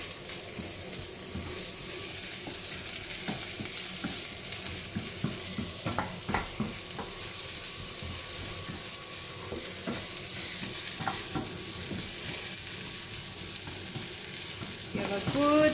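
Carrot, garlic and celery stir-fry in a pan with a steady, close sizzle, punctuated by occasional scraping and clinking from stirring.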